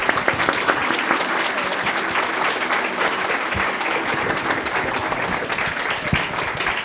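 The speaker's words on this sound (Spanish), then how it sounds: "Brindémosles un fuerte aplauso," A strong, continuous round of applause fills the room at a literary panel on urban noir fiction. Many hands clap densely and evenly for several seconds, with no break.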